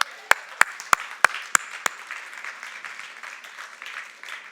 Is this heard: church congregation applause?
yes